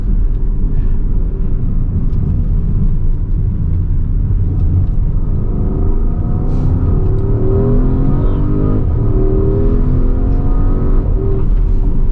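Porsche Taycan Turbo S electric car accelerating hard, a loud continuous rumbling road and motor roar with rising tones building steadily from start to finish, heard from inside the car with no talk.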